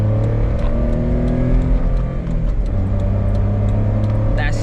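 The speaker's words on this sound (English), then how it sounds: "That sound is memorizing. It's the best part about the Beat." A Honda Beat kei car engine revs steadily from inside the cabin, a close, continuous mid-pitched engine drone whose harmonics hold and shift as the revs change.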